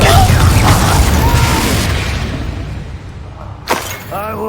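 Confringo fire spell blast in the Hogwarts Legacy video game, a loud booming burst with shattering debris that decays over a few seconds, followed by a short sharp crack and a spoken voice near the end.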